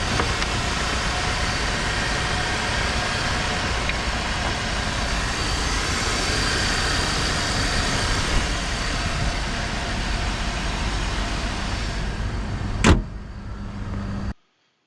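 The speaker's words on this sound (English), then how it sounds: "Engine sounds good." A Mercedes-Benz C200 engine idles with a steady, even hum close by, followed near the end by a brief sharp click or clunk before the sound cuts off.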